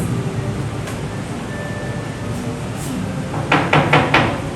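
A knock at a door in a school Children's Day skit, several quick raps near the end over a steady room hum.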